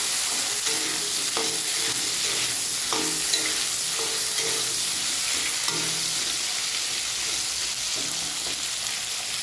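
Vegetables fry in oil in a pan alongside salted, turmeric-coated fish, a loud steady sizzle broken by occasional scraping taps of a spatula stirring, close up with no talk.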